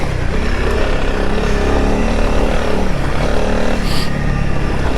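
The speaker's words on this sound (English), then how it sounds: "Now I'm in second gear, just chugging it." A Honda CRF300L Rally motorcycle chugs along a trail in second gear, its engine a loud, steady, rumbling drone with wind buffeting close to the mic throughout.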